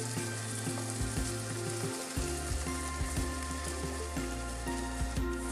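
Stuffed eggplants frying in hot oil, a steady close sizzle and crackle with small pops running throughout, alone without talk, under a faint background hum.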